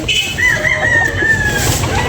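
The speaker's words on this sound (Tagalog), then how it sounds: "Gwapo manok." A rooster crows nearby at a chicken market, a drawn-out wavering cock-a-doodle-doo over a noisy outdoor background.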